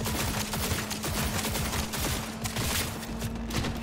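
Rapid crackling electric bursts from a stun gun fired in Cyberpunk 2077, a dense continuous volley with a steady low hum underneath, loud and close, no talking.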